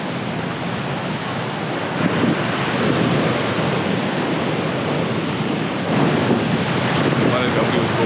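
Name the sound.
waterfall rushing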